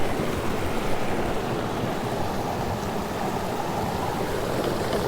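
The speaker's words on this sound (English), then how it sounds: "We're just going to fill up the stream water through here." Stream water flows steadily into a Lifesaver Liberty filter bottle beside a stream, a continuous broadband rush and gurgle at close range with no talk.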